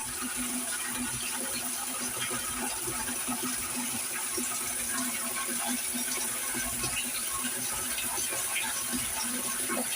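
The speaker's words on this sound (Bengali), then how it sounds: "শুধু শব্দ শুনুন পানির টুপটাপ সহ যেন এক অসাধারণ শান্তি এনে দেয়" Water pours and patters continuously into a filling water tank, a steady close splashing wash with no pauses and no voices.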